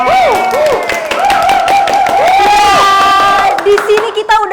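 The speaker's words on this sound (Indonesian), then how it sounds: "Tepuk tangan dulu dong." Studio audience at an Indonesian film cast event cheers and claps loudly and continuously, with shouts and excited voices forming a dense crowd roar throughout.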